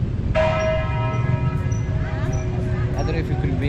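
A large church bell in Manaoag, Pangasinan, strikes once loudly and rings out with a long shimmering decay, heard close over steady crowd murmur and background chatter.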